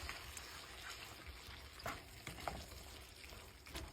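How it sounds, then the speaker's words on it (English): Ingredients are stirred in a hot pan, a soft continuous sizzle broken by several scraping clicks of the utensil against the pan, quiet and close. "So I'm gonna stir that in"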